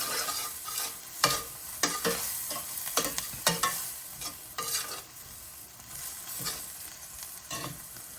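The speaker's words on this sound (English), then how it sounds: "we're going to mix this all in until we smell it" Crushed garlic is stirred into a hot pot: repeated close scraping strokes of a utensil over a low, steady sizzle, with no one talking.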